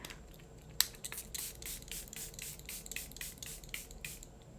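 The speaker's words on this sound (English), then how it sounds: "I'm going to take the Airbrush Flawless Setting Spray from Charlotte Tilbury" Soft, quick spritzes from a pump bottle of Charlotte Tilbury Airbrush Flawless Setting Spray repeat in a rapid series, close and quiet, with no talking.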